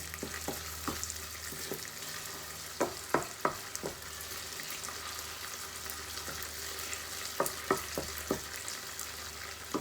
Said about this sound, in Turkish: salçam böyle kavruldu